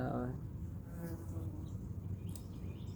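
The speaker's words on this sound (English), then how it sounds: "I was doing so well with like not getting interrupted by any bees or yellow jackets" A bee or yellow jacket buzzes close by, a thin, wavering drone that drifts in and out while a person talks over it.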